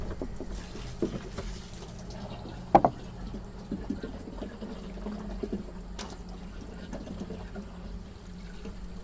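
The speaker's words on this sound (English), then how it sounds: "Now I'm going to fill the tank." Warm water pours and trickles steadily into a sprayer tank, with a few clunks and knocks along the way; fairly quiet and close.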